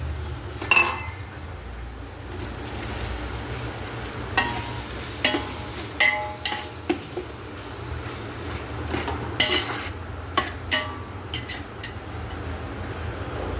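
Ginger garlic paste and tomato sauté for chicken biryani, a constant low frying hiss under intermittent spoon clinks and scrapes against the pan, close and moderately loud.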